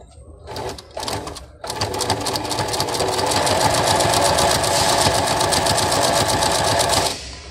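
A Singer Pret a Porter FM14 sewing machine stitches fabric in a loud, rapid, steady whir after a few short starts, running continuously for about five seconds before stopping.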